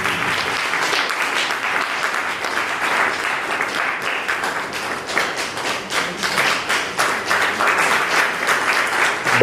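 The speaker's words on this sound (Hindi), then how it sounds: "तो तालियां आप बजाते रहें," Sustained applause from an audience at a speech event, dense continuous clapping with sharper individual claps and slight swells in loudness throughout.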